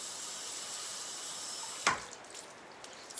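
A bathroom tap runs steadily for rinsing the face, a soft continuous water hiss that cuts off abruptly partway, followed by faint drips and quiet handling.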